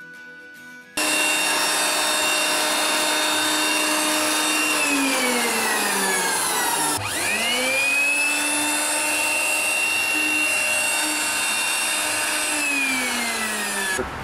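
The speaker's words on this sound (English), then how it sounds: "is the electric blower. It comes with a directing nozzle." Electric blower duster for pest treatment, fitted with a directing nozzle, starts abruptly and whines loudly and steadily, its pitch dipping and recovering midway before running on close by.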